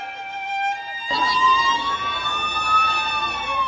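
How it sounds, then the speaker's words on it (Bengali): Ambulance sirens wail at the scene of a plane crash at a school ground in Uttara. A quiet tonal hum suddenly swells into loud, sustained siren tones that glide slowly upward in pitch. "অসংখ্য অ্যাম্বুলেন্সের আর্তনাদে প্রকম্পিত পুরো এলাকা"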